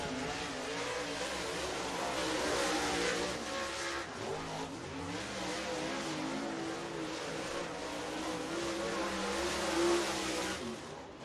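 Race cars circle Duck River Raceway Park in Lewisburg, Tennessee, engines roaring and revving continuously at a distance, swelling and fading as the pack laps the track, with no talk.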